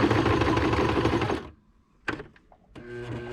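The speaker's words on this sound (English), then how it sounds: "And then I'm going to stitch right up to that fold," A sewing machine stitches a quilt in a steady, fast whirring run, then stops abruptly, followed by a few brief clicks and a short restart.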